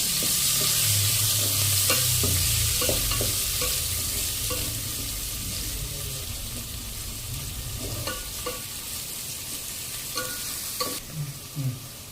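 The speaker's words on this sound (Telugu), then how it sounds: "నెక్స్ట్ ఆనియన్ వేసుకొని ఒకసారి కలుపుకోవాలి." Onions for egg biryani sizzle and fry in a pan, with repeated spoon stirs scraping through a steady close hiss that gradually softens, and a few louder clatters near the end.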